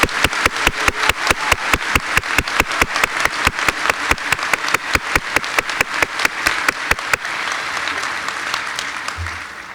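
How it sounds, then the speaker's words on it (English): Audience applause at a veterinary medicine college white coat ceremony: a steady, loud run of claps with distinct individual hand strikes for about seven seconds, then thinning into a softer, diffuse patter. "Let's start with a round of applause."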